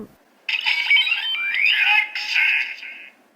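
A Kamen Rider Revice DX Rex Vistamp toy's tinny electronic voice announces its name in a short, bright burst, with a rising synthetic sweep.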